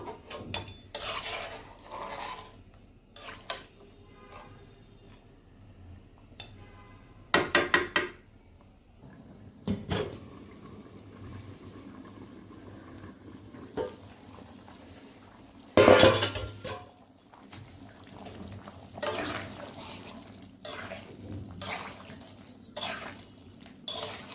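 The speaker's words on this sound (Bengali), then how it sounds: "আমি খাসির মাংস রান্না করতেছি" Goat meat cooking in a pot in a home kitchen, with metal pots, pans and utensils clanking and scraping in scattered bursts, several sharp loud clatters standing out against quieter stirring and background hum.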